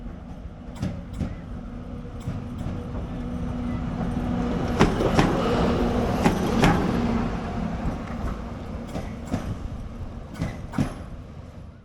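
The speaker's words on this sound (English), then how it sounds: "our locomotive needs to run around in order to access the railway heading up to cross the border" A diesel locomotive running around its train rumbles past at moderate distance, engine swelling then fading, with scattered clanks and knocks of rail equipment around it.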